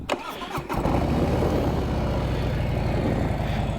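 A Harley-Davidson motorcycle engine cranks briefly, then catches and settles into a loud, rumbling idle up close.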